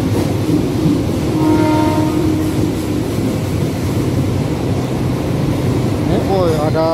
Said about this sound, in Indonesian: Kereta baru Argo Pangandaran.